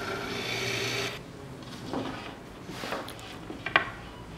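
A Forstner bit drilling a pivot hole through two clamped 2x4 boards in a woodshop: a brief, fairly quiet steady whir that stops after about a second, followed by faint scraping and handling of wood.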